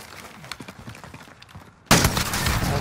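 A Tommy gun in a video game bursts into loud, rapid automatic fire that starts abruptly and keeps going, after a stretch of quieter scattered distant shots.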